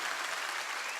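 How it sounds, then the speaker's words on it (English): Crowd at a political rally in Ohio applauds in a continuous, even wash of clapping, somewhat distant and steady throughout the short stretch. "let's give them a roaring sound of applause."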